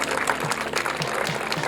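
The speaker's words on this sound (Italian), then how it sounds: "Farei un bel applauso a tutti i negozianti che hanno partecipato." Audience applause for shopkeepers taking part in a fashion show event in Fossò, Venice, a steady, dense clapping that carries evenly through the short moment with no voices.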